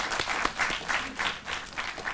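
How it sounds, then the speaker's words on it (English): Steady applause from a public lecture audience for a lecturer, a brief burst of many hands clapping at moderate volume. "Let's applause once more to Dr."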